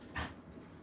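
A frightened dog whimpers once, a short soft whine near the start, faint and close, during a Fourth of July fireworks display at sunset, with a low background rumble behind it.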